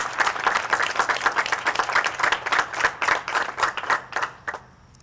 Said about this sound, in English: Would our public health and kinesiology faculty please raise a hand so we can applaud you